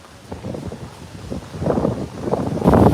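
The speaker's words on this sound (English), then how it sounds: "You can hear the gusting wind." Gusting wind from Hurricane Nicole sweeps across the Boardwalk at Walt Disney World in light drizzle. Buffeting rumbles on the microphone rise in waves and grow steadily louder, with the strongest gust at the end.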